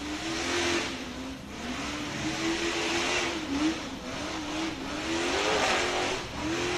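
A UTV races through a turn on a dusty course at a Bouncer Cup event, its engine droning steadily with rising and falling pitch as it accelerates, loud and continuous with faint tire noise.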